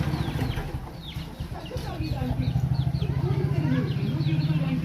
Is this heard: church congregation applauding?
no